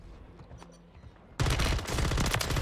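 A RAM-9 submachine gun fires in Warzone 3, a loud sustained rapid burst that erupts suddenly after a quieter stretch of ambient game noise.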